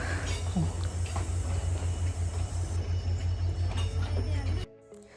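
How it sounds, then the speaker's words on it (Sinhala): A train pulls into Anuradhapura railway station with a steady, low engine drone and faint rail rumble that holds evenly before cutting off abruptly near the end. "බලන්න ඉතින් කෝච්චිය රේල්වේ ස්ටේෂන් එකට ළඟා වෙන්නේ කොහොමද කියලා"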